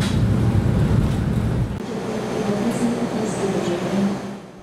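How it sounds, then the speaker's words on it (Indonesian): Argo Cirebon passenger train at Cirebon station, a loud steady rumble and roar of rolling stock that drops in intensity partway through, with faint higher squeals later. "kita bertemu lagi dengan rangkaian kereta api Argo Cirebon 22"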